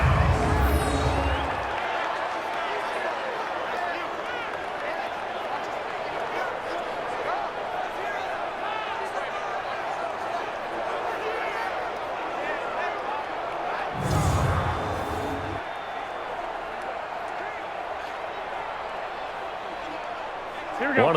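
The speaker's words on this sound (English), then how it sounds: "The crowd getting into it as we come up on a big third down." Stadium crowd at an NFL football game between the San Francisco 49ers and New Orleans Saints, a steady loud roar of cheering that swells briefly midway, with broadcast commentary running over it.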